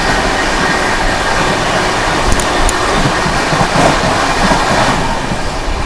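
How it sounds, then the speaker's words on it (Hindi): The Maharashtra Sampark Kranti Express runs alongside and overtakes the Borivali Vatva Express on the Mumbai to Delhi line, a loud continuous rumble and wheel roar heard from on board with a few faint metallic clicks. "चलिए, ओवरटेक कर दिया अपनी महाराष्ट्र संपर्क क्रांति ने, एक और ओवरटेक किया बोरीवली वातवा एक्सप्रेस को।"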